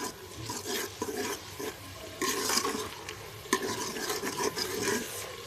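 Spices and masala, including garam masala and salt, stirred and roasted in a pan for aloo palak, with steady scraping and a soft sizzle under continuous spatula strokes, close and fairly quiet.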